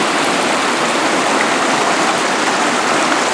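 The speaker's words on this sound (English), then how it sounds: "You really see the water washing over the side of the bridge there." Flood water pours over the side of a bridge in a steady, loud, continuous rush like a stream or small waterfall, close by and with no talk over it.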